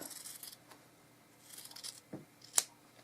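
Scissors snip off excess quilt binding fabric, giving a few soft, close cuts and a sharp final snap in an otherwise quiet room.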